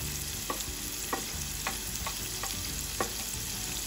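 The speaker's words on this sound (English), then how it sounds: "Stir and cook until they are nice and soft." Chopped onion cooking in a pan with asafoetida, a soft steady sizzle under regular scraping stirs about every half second, close and with no one talking.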